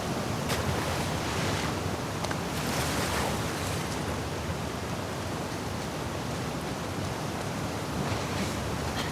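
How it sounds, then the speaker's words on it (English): Ocean waves in The Last of Us Part II roll and wash continuously as a dense, steady roar with wind-like hiss, loud and unbroken, no voices. "it remained in essence in the section swimming to the aquarium as Ellie when you were avoiding the waves"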